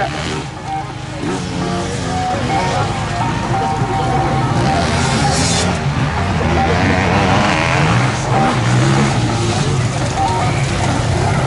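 A rally car leaves the start of special stage ES4 at the 2025 Rand'Auvergne, its engine roaring loudly and continuously as it accelerates away, with a commentator's voice layered over the noise.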